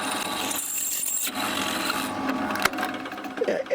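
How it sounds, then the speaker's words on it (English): A pillar drill cuts metal parts in a workshop, giving a continuous harsh grinding and rasping with scraping metallic clatter and a sharp knock partway through. "and then do it on the pillar drill"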